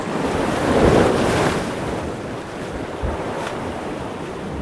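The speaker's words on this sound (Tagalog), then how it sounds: "Malaki ng palaki yung alon." Big ocean waves surge and wash in a continuous roar, swelling louder for a moment then easing, with wind buffeting the microphone.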